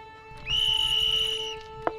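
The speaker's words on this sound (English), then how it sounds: "Greg, you blow the starting whistle" A starting whistle is blown in one steady, shrill blast lasting about a second, fairly close, followed by a short sharp click in an otherwise quiet room.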